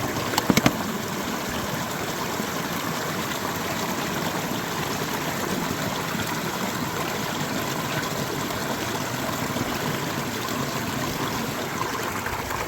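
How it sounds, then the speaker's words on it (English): A small stream flows near a snowy wild campsite with a soft, continuous trickling babble. A few light knocks come near the start. "Gone down to the little stream nearby just to fill this water bottle up so we can have some water to put out."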